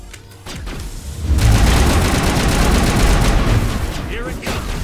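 Sustained gunfire from a Mass Effect battle, a dense rapid-fire burst of shots and booms that starts abruptly and rolls on loud and close for several seconds.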